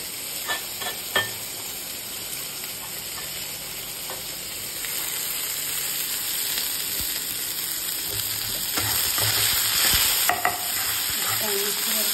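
Cauliflower with coriander leaves stirred in a hot pan, a continuous close sizzle with scattered clinks and scrapes of the spoon that grow busier toward the end.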